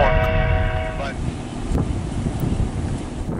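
BC Rail freight train CNA-442 with cowl unit 4614 among three locomotives rounding a corner on the Three Hills subdivision, a sustained loud rumble under heavy wind buffeting, with a chord-like horn blast in the opening second.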